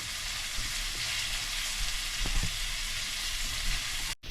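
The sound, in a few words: ginger paste spice mix frying for crab curry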